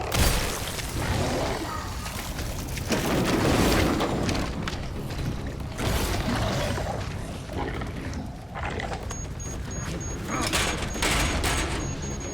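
Gunshots in Resident Evil Requiem, a steady run of heavy shots and booming bursts repeating throughout amid loud, dense combat noise.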